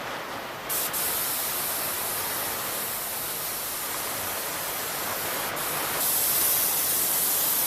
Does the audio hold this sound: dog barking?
no